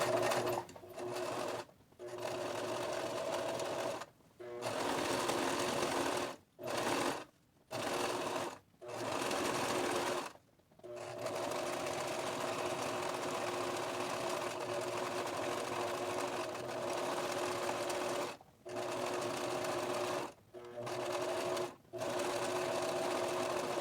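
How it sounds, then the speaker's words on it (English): A sewing machine stitches around an appliqué edge on a pillow, running in steady whirring bursts broken by many short pauses, close and clear with no talk. "you're going to sew around the edge, and the idea is that you want the needle to go off of your applique and then onto your applique"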